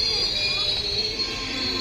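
A train braking to a stop at a station, its wheels squealing steadily against the rails, a continuous high metallic screech with low rumble beneath, sustained throughout without pause.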